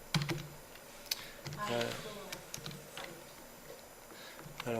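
Typing on a computer keyboard: a run of sharp, uneven keystroke clicks, some louder and some softer, close by in a quiet room, with faint voice-like sounds between the keystrokes.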